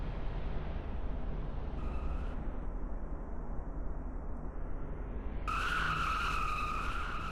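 Race car burnouts in a NASCAR race produce a continuous tire squeal and engine noise over a steady rumble, with a sharper shrill burst of squealing near the end.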